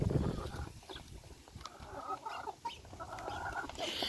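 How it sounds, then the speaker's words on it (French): Two farmyard roosters crow among hens, with faint clucking and bird calls at a moderate distance; the sound is fairly quiet and outdoors, with no clear talk over it. "les deux coqs chantent"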